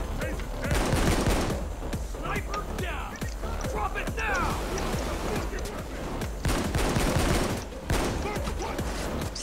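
Payday 2 gunfire, dense heavy shots and booming blasts crowding together almost nonstop amid chaotic combat noise, with voices talking over the din.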